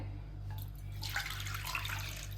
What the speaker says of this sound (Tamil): ஒரு கடாய் வச்சுருக்கேன். அதில் வந்து தண்ணி ஊற்றிக்கிறேன்.